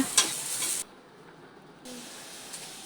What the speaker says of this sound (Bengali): এখন চিংড়ি মাছগুলো ভাজা হইতেছে।